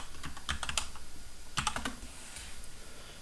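A folder name is typed on a computer keyboard: a quick burst of crisp key clicks, a short pause, then a second flurry of keystrokes, close and fairly quiet over faint room hiss.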